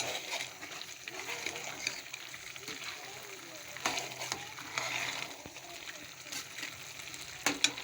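Keema is stirred with green coriander and green chillies in a pan, giving a steady soft sizzle with scraping stir strokes and occasional louder clinks, close and moderately quiet.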